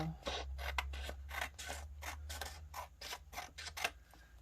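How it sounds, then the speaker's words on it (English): Scissors snip through a planner page in a quick series of short, close cuts, about a dozen crisp strokes in a fairly steady rhythm with no talking. "I'm just gonna cut that one down"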